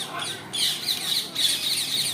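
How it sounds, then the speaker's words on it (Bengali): A flock of parrots at a zoo, squawking and chattering together in shrill, overlapping bursts that carry on steadily throughout, fairly close and with no talk. "অনেকগুলো টিয়া পাখি একসাথে কিচিরমিচির শব্দ করে।"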